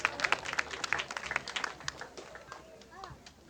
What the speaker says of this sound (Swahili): Wapi makofi ya wanafunzi wetu, graduates wetu?